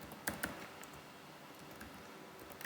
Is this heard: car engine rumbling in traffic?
no